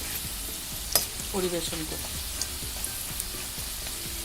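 Bitter gourd (karela) slices fry crisp on a high flame in a pan, giving a soft, steady sizzle with a few clinks of stirring. A voice speaks briefly over it.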